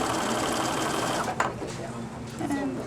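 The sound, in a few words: sewing machine stitching shadow applique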